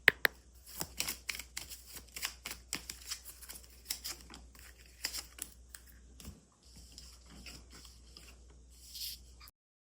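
Major arcana tarot cards are shuffled close by, making quiet rapid flicks and soft papery clicks in uneven bursts, with a brief pause near the end and no voices.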